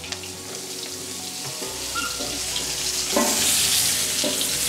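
Sweet red spring onion frying in guanciale fat in a pan, a steady loud sizzle that swells near the end, close up with faint clinks and no talking.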